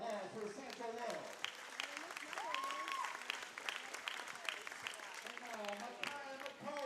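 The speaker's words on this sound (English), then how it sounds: "A round of applause for Satchel Love." Crowd at a college basketball game applauding a player introduced on the court, sustained clapping throughout with a loudspeaker announcer voice running over it.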